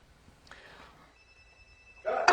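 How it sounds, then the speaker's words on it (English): A telephone rings faintly in an indoor scene, with a thin sustained electronic tone over low background noise, followed by a sudden louder burst at the end. "Could you get that phone?"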